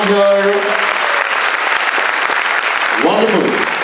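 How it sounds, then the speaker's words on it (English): An audience at a school quiz event breaks into a big round of applause, dense steady clapping filling the room throughout, with a voice briefly heard near the start and again near the end. "start off the quiz with a big round of applause for the schools"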